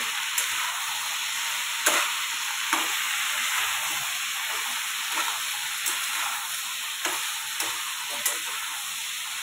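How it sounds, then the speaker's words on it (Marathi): Spice masala, chili powder and salt frying in a pan, a steady loud sizzle with repeated light scrapes and taps of a spatula stirring through it. "हे चांगलं असं आता परतून घेणार आहे"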